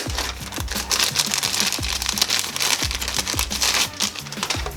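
Scissors cut through plastic packaging around a toy mask from a Ryan's World mystery egg, giving dense, steady crinkling and snipping close up for the whole stretch, with no talking.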